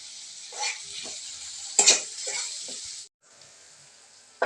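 Onion and tomato masala with salt sizzling in a pan while being stirred together, a soft hiss with a few scraping strokes and one sharper clatter, then a brief near silence before the sizzle resumes faintly.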